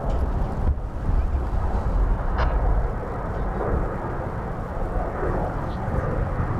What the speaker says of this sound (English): This is a 8-year-old Dreamliner Dash 9 headed back